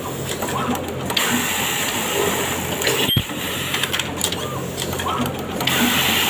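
A wide-range elastic cutting machine runs steadily in a garment factory, a continuous mechanical whir with repetitive rattling. A sharp click lands near the middle, and faint voices sit in the background noise.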